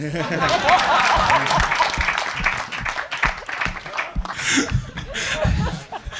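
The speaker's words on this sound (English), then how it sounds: "Please clap for him." Audience applause at a crypto accelerator launch event, mixed with chuckles and laughter from the crowd; the clapping rises and dips unevenly while voices talk over it throughout.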